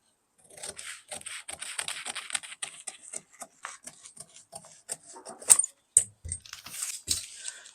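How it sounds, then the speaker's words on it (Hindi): Fabric being cut for the back of a deep-neck blouse pattern: rapid close snips and rustling scissor strokes in quick succession, with a few sharper clicks near the end, no talking. "अब इसको हम फटाफट पहले काट लेते हैं।"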